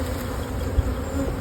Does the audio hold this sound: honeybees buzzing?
yes